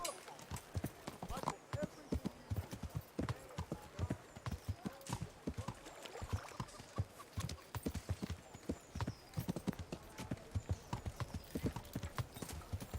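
Rapid, rhythmic hoofbeats of a galloping horse in Kingdom Come: Deliverance, clip-clopping steadily and fairly close, with an occasional whinny.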